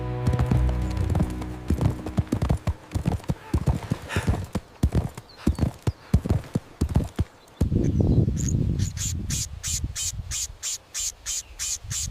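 Horse hooves clip-clop in a quick, irregular run of sharp close knocks, then give way to a steady evenly spaced series of clopping beats at a slower walking pace.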